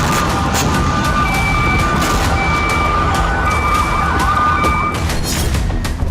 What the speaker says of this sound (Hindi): बार बार सायरन बज रहे हैं और लोग अंडरग्राउंड ठिकानों में छिपे हैं।